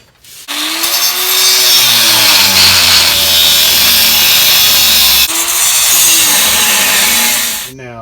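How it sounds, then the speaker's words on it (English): An angle grinder fitted with a cut-off wheel slices through metal grill brackets, giving a loud, harsh, continuous whine that dips briefly midway and stops abruptly. "I'll just cut it with a cut-off wheel on a grinder"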